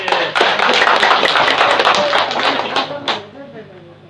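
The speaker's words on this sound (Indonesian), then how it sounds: "Tepuk tangan lah buat Minas." An audience claps in a dense burst at a Meranti gathering, steady and loud for about three seconds before thinning out, with voices mixed in underneath.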